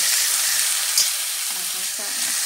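Lamb shoulder sears in a hot pan with a bright, continuous hiss of fat and juices sizzling up close and steady throughout.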